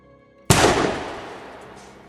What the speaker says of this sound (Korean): 총성이다.